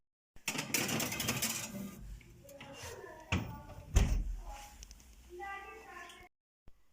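A cake tray slides into a preheated 180-degree oven and the oven door thumps shut, with sharp clattering knocks and a heavy closing bang close by, followed by further metallic clicks.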